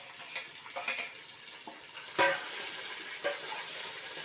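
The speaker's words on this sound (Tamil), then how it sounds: "தக்காளி நல்லா வதங்கணும்." Tomatoes cooking in a pan for pepper chicken give a faint sizzle and soft stirring scrapes, with a couple of sharper clinks of the spatula against the pan.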